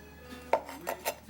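A kitchen knife chops across an onion for chicken lumpia, giving four or five sharp, close taps on a board in an uneven rhythm, with no one talking.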